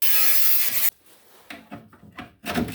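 A piece of wood is sawn off by hand during a tool cart build, with a loud continuous rasping saw stroke that stops abruptly, followed by a few shorter scraping strokes.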